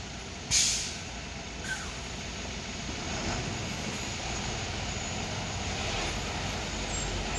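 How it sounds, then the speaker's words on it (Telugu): Ashok Leyland long-chassis 16-wheel truck reversing on a narrow ghat road: a sharp air-brake hiss at the start, then a steady low diesel engine rumble that holds throughout, moderately close. "రివర్స్ తీసుకుంటున్నాడు ఎందుకంటే లాంగ్ చాస్ కదా"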